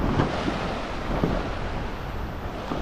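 Strong sea waves surge at high tide after a storm, a loud, continuous broadband wash of surf with rolling swells and gusty wind buffeting the microphone throughout.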